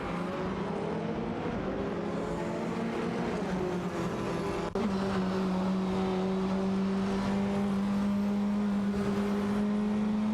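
Engines of simulated TCR touring cars, an Alfa Romeo Giulietta and a Lada Vesta, drone steadily in an AI-driven racing game, with a sharp pitch shift midway as a gear changes and the tone settles lower.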